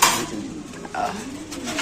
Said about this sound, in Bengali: এখানে আছে একদম ডেনিশ কবুতর